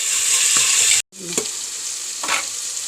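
Onion, garlic and ginger fry loudly in a pan with a dense, continuous sizzle, briefly cut out for a moment, then resuming with scraping stirs.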